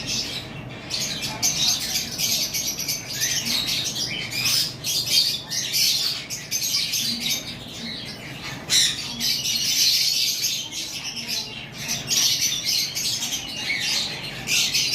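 Cockatiels in a breeding pair, one an albino, squawk and chirp loudly and nearby in repeated harsh bursts, with some wing flutter and a voice talking faintly underneath.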